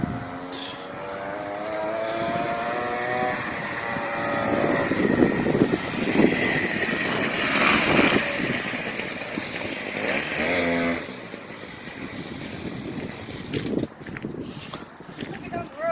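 A small mini bike engine buzzes and whines as it rides past on a cold day, its raspy pitch rising and then falling as it draws near and passes, with a person talking over it.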